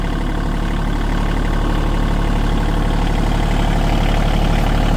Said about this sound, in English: I usually run my tractor at 1500 RPM with the auto throttle on